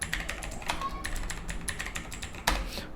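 Rapid keystrokes on a computer keyboard during coding work, a steady run of crisp clicks with a sharper tap near the end, close and fairly quiet, no voices.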